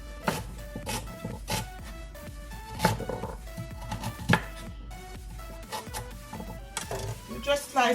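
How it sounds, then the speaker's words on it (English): A knife slices carrots on a cutting board in a series of uneven, sharp chops, close by, over a background of music. "So let me start slice these carrots."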